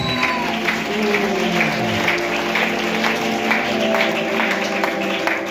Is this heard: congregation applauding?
yes